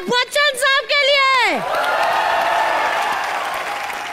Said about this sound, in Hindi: तो एक बार जोरदार तालियां हो जाए बच्चन साहब के लिए